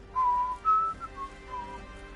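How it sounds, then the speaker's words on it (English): A person whistles a short tune of a few sustained notes with brief gaps, fairly close, over a low hum from Monster Hunter World gameplay. "I've just realised you're listening to me whistle."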